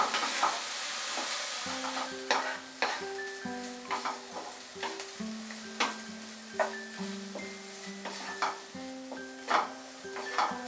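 Mixed vegetables for veg fried rice fry in a kadai with a broad, steady sizzle, punctuated by regular scraping stirs and light metal clinks; a soft melodic tone runs underneath throughout.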